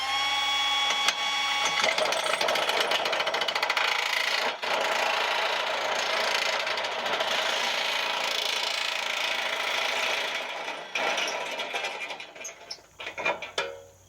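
Milwaukee M12 cordless nibbler chewing through sheet metal, a loud continuous rapid rattling buzz held for about ten seconds, then tapering off into short bursts and stops near the end.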